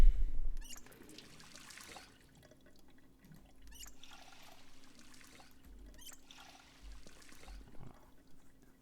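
Water from a tap in the video game Project Zomboid runs in soft repeated bursts, a gentle trickling stream that swells and fades several times over a steady low hum.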